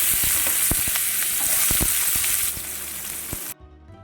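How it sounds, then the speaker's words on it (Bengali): Loud, steady hissing sizzle of chopped onions frying in oil left from frying fish, with scattered pops and stirring clicks, easing slightly before cutting off abruptly. "ওই মাছ ভাজা তেলের মধ্যে আমি দিয়ে দিচ্ছি কুচি করে রাখা পেঁয়াজগুলো"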